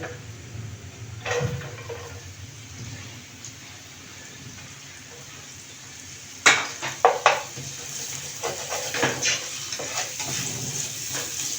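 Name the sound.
square-cut onion frying in pan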